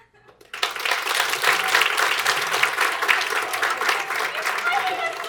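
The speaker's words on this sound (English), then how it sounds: "Clap if you do not have a tattoo." A comedy club audience in Toronto bursts into applause after a short quiet start, a dense, steady wash of many hands clapping that holds loud and close for several seconds.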